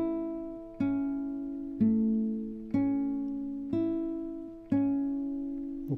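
An acoustic guitar is plucked with fingers in a steady repeating pattern, each chord struck roughly once a second and left ringing, close and clear.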